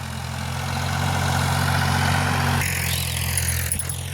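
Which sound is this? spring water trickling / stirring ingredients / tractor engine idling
tractor engine idling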